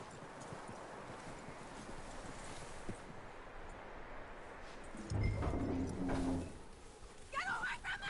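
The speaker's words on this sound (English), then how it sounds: "That looks like a decent horse." A horse hitched up and standing by, hooves clip-clopping faintly amid outdoor ambience, then a louder rumble of movement nearby with a brief whinny-like call near the end.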